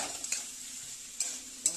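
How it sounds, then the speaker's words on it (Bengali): Onions frying in a pan for a fish-oil chorchori being stirred, a quiet sizzle broken by a few sharp scraping clinks of the spoon, no voices. "একটু নাড়াচাড়া দিয়ে দেবো"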